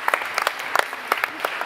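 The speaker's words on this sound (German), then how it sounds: "Nochmal einen Applaus für euch" Audience applause following a student pitch at a university AI innovation challenge, a short burst of steady clapping from a crowd with no one speaking over it.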